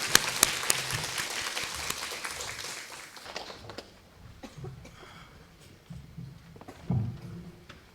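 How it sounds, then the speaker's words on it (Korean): Applause at a church mass during Holy Week, a congregation's clapping that starts fairly full and fades out over several seconds, followed by quieter room shuffling and a few faint knocks. "우리 예절에 함께 해주신 교수님들과 학생분들께 박수 부탁드립니다."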